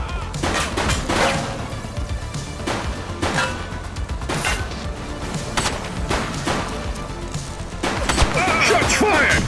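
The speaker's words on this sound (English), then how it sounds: "Shots fired!" Gunfire in a police video game, a series of sharp, spaced shots mixed with thuds and crashes, loud and close over a busy background.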